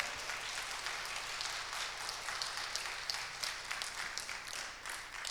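A Korean church congregation claps together during a Sunday worship service, a dense, sustained wash of applause that fills the sanctuary from moderate distance for several seconds.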